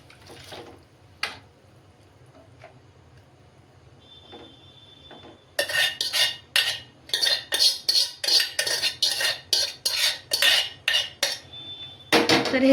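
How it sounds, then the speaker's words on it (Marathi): Masala mixed in a pan for misal, a quiet start with a few faint knocks, then a run of loud, close, rhythmic scraping and clanking strokes of a utensil against the pan. "ह्याला असं छान मिक्स करून घ्यायचं आहे परत एकदा"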